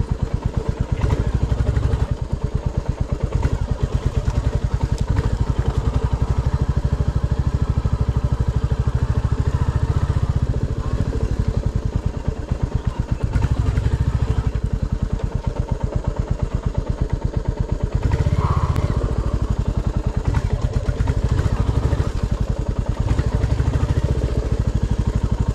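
Royal Enfield Classic 350 motorcycle riding off-road, a steady loud single-cylinder thump with clattering and varying throttle throughout, close and continuous with no clear talk.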